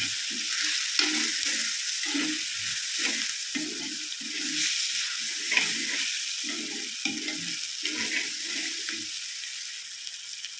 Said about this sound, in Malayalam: ഇതെല്ലാം കൂടെ മിക്സ് ചെയ്തിട്ട് മുളക് പൊടിയുടെയും മഞ്ഞൾപ്പൊടിയുടെയും ഒക്കെ പച്ചമണം മാറി